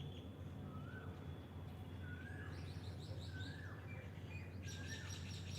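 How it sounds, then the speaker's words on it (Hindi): Birds chirp and call in the open morning air, with rising whistled notes repeating every second or so and brighter twittering later, moderately distant over a soft steady background hiss. "मधुर पक्षियों की ध्वनि"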